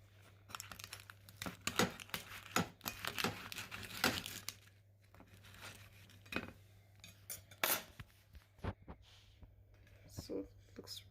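Knife or cutter working through a vegan pizza, with a run of scraping, crackling clicks against a plate, close and fairly quiet, while a person talks softly over it.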